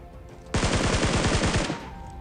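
Automatic gunfire in PUBG Mobile, a single loud burst of roughly a dozen rapid shots lasting just over a second, standing alone with no talk.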